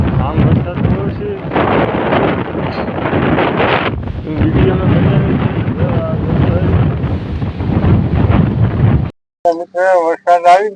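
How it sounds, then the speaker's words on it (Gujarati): Strong storm wind ahead of rain roars and buffets the microphone in loud, continuous gusts for about nine seconds, then breaks off into a short voiced sound at the end. "આ જો વાવાઝોડું પવન બહુ છે હાલમાં"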